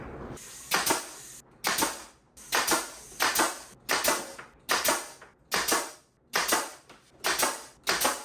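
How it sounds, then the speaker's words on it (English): Sharp pneumatic nail gun bangs repeat about once a second, eleven or so in a row, each a punchy snap with a short hiss after it, while fixing window and door trim. "there's not many more sounds more satisfying than a nail gun"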